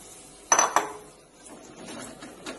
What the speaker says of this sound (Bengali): আলুটা দিয়ে মশলাটা ভালো করে নাড়াচাড়া করে নেব একটু